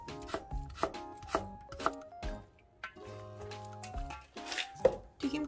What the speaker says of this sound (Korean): 양파, 당근, 파 채 썰어요